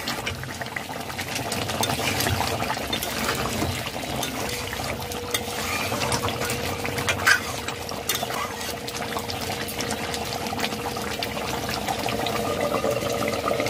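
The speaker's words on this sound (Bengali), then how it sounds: "একটু নাড়াচাড়া করে নিতে হবে, মশলা নিচে বসে যাবে।" Chicken chap curry simmering in a pan while being stirred, a steady bubbling, liquid simmer with faint scraping throughout, fairly close and even, with one brief louder knock midway.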